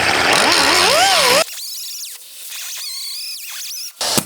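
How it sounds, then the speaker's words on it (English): An angle grinder cuts out spot welds on a rusted car body panel, giving a loud close metallic whine whose pitch swoops up and down as the disc bites, then steadier high squeals in bursts. "I'll take my grinder and I'll grind out where those spot welds are"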